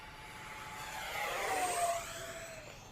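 A Freewing 64mm F-14 Tomcat RC electric ducted-fan jet screams past at full throttle on its maiden flight, a rising then falling whine with a sliding pitch as it sweeps by overhead, loudest midway.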